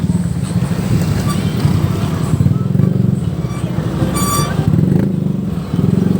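Motorcycle squeezing through a narrow passage in a local neighbourhood, its engine droning loud and close with a steady low throb and some rattling, one brief higher whine partway through.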